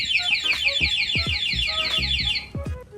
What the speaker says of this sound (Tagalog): Ganun po kaganda yung alarm natin, no?